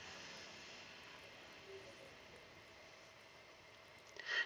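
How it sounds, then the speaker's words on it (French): An airplane passes overhead in the PC game Bigfoot, heard as a steady, distant broadband engine drone that holds level throughout with a brief louder swell at the very end. "Dans le jeu, il va y avoir un avion qui va passer."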